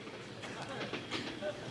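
A train runs along the rails at a station, giving a steady broadband rumble and rattle with faint clatter, under low background noise.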